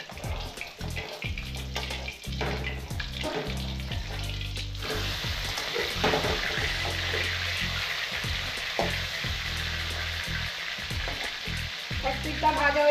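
Pieces of rohu fish fry in hot oil in a pan, giving a steady, close crackling sizzle with bursts of spattering, heard alone without talk.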